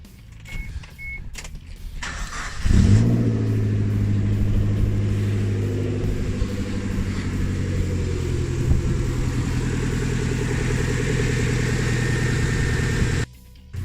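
A Suzuki Jimny engine fires up after a couple of seconds and settles into a steady, close mid-pitched idle while warming up, humming evenly for about ten seconds before cutting off abruptly.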